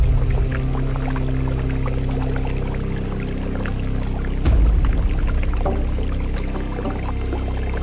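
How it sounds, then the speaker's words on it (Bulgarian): A river roars through a rocky canyon, the Devil's Canyons of Sheytan and Dyushun Dere, as a loud, steady, unbroken rush of water that fills the whole stretch with no voices. "Под тях само бученето на реката и черните неподвижни очи на вировете."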